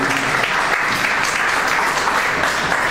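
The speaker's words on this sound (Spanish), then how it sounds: "Denle una ofrenda de palmas a nuestro Señor Jesús." A church congregation gives sustained applause as an offering of praise during a sermon, a dense, steady wash of clapping from many hands throughout with no speech over it.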